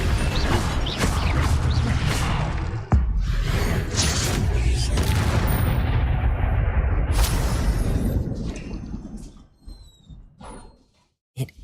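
Incendio fire spell cast in the Hogwarts Legacy video game: a sustained, loud roaring whoosh of flame with a sharp burst near the start, fading out after about nine seconds, with no talking.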